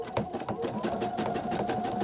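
A sewing machine stitches out a specialty snowflake stitch, its needle running in a fast, steady mechanical chatter with a faint whirring motor tone, close and continuous throughout.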